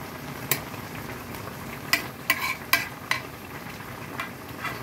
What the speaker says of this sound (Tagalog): super ang kulo na niya